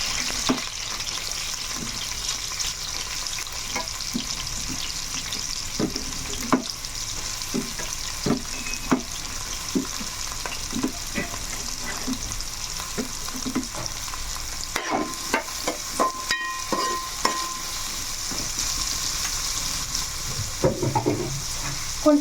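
Sliced onions with coarse salt frying in hot oil, a continuous close sizzle broken by frequent scraping strokes of a spatula stirring the pan, with no voices.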